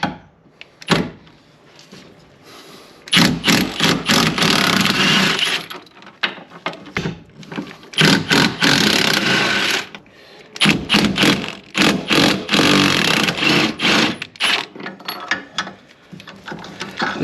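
Axle bolts coming out of a Ford Fiesta ST150 body shell with a power tool, loud close bursts of rattling mechanical whirring lasting a second or two each, separated by short pauses and clicks.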